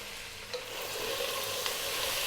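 Celery, carrots and onion hit a hot pan for a lamb stew, a steady sizzle that swells after a light clatter and then holds evenly, close and moderate in level.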